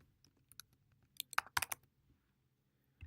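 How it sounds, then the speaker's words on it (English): Keystrokes on a computer keyboard while entering a word into a spreadsheet cell, a short burst of close, crisp clicks in quick succession followed by a pause and one last tap. "I'm going to type the word weather"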